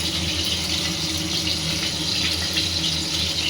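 Tap water runs steadily into a kitchen sink while onions are washed, a continuous close hiss and splash with no talk over it.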